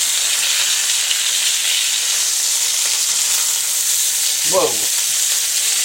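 Hamburger steak frying in very hot grease, a steady loud sizzle and crackle throughout with a brief exclaimed voice near the end.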